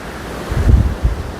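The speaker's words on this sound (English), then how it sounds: "as you can see, it's very, very windy." Gusty wind buffets the microphone in low rumbling bursts on the bank of a pike fishing water, strongest in the middle of the clip, with no voices.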